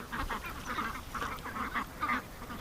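Wild female duck quacking outdoors: a run of short nasal quacks in irregular bursts with brief pauses, moderately near but fairly quiet, with no talking.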